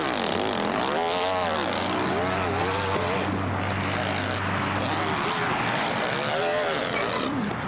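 A man imitates a motorcycle engine with his voice, giving buzzing, revving drones that rise and fall across several seconds, loud and close with no other sound.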